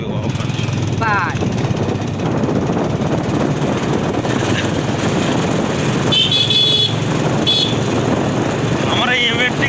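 A TVS M80 moped rides along a village road, its steady engine drone loud and continuous throughout, with a few brief horn toots breaking through over the constant hum.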